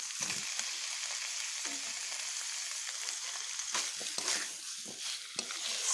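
Jackfruit seeds and potatoes fry with spices in a pan, giving a steady, hissing sizzle broken by occasional scraping stirs.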